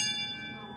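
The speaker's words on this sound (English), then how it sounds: "This is a school bell" An old school bell from a log cabin school rings with a bright metallic tone that rings on and fades, alone and close.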